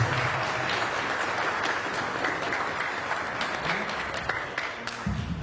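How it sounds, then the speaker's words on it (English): Audience at a Toronto community event honoring a young Oromo soccer player applauds steadily, a dense, even wash of clapping from a crowd that carries on for several seconds. "Yeah, round of applause."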